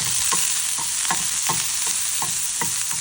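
Onion, green chili, garlic and dals sautéing in oil, with a bright constant sizzle and a series of evenly spaced spatula stirs scraping the pan, close up and without speech.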